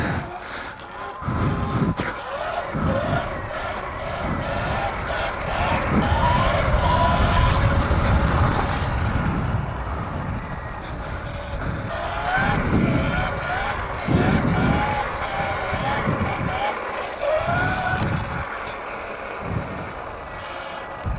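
A Sur-Ron electric dirt bike rides a wheelie across a stage, its motor whine and tire noise rising and falling over about twenty seconds, with crowd noise and scattered voices in the background.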